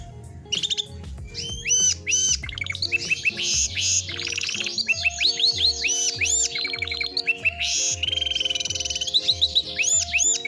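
A Gloucester canary sings a long run of bright, rapid warbles, trills and chirps, close and loud, with repeated low clicking pulses beneath and steady tonal layers throughout.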